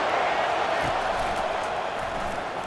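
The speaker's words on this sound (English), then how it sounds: "this crowd trying to help keep them there" The stadium crowd in EA Sports College Football 25 keeps up a dense, steady roar throughout, with a commentator talking over it.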